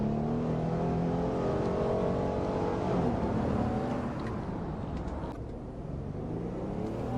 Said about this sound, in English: yes, that is a Ford engine sound